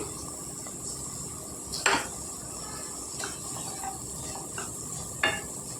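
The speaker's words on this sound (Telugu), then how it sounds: "ఇప్పుడు వెల్లుల్లిపాయలు వేసుకుందామండి కచ్చా కచ్చాగా దంచి" Coarsely crushed garlic is dropped into a pan of fried broad beans, and a low, steady sizzle follows, broken by a few sharp metallic clinks and scrapes of a spoon against the pan. No voices are heard.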